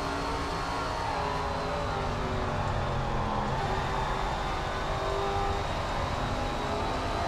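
Race car engines in SRX: The Game, a Super Late Model field at Stafford, holding a continuous steady drone with a faint whine and no breaks.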